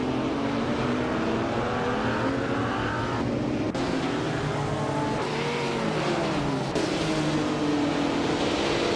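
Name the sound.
race cars speeding closely together in a racing video game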